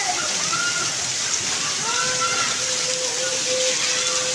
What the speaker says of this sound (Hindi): देखिए कितनी तेज बारिश हो रही है